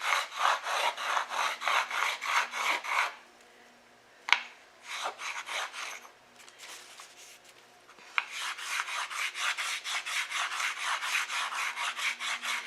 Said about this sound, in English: And you season it by just rubbing chalk over it.